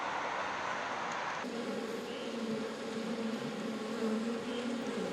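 Honeybees buzz steadily on the rooftop of a city building in Seoul, a continuous close drone whose pitch and texture shift partway through as the swarm moves, with no talking.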